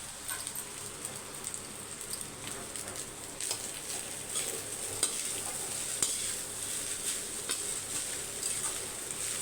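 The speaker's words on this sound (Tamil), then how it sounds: "அதுக்கப்புறம் பொறிச்சு வச்ச முட்டை இப்போ மிக்ஸ் பண்ணிக்கலாம் நல்லா" A spatula stirs fried egg into vegetable fried rice in a pan, steady scraping and tossing over a soft continuous sizzle, close and moderately quiet with no voices.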